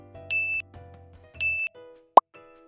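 A smartphone on a wireless charging base gives two short bright chime tones about a second apart, then a sharp click or plop, quiet and close with no voices.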